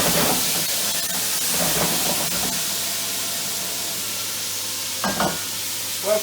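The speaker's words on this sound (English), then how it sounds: "That's the first batch of lamb being sealed off." A first batch of lamb sears in a pan for a casserole, giving a constant soft sizzle and hiss with a few brief stirring scrapes and clatters.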